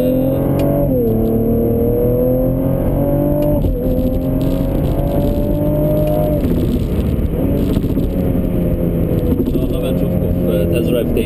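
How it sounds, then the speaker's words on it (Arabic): A Cadillac ATS-V accelerates hard on a test drive, its engine note climbing steadily through the gears with brief dips at the shifts, loud and close from inside the car, with a person talking over it. "دي هتبقى اخر سحبه في التست درايف بتاع الكاديلاك الاي تي اس بي"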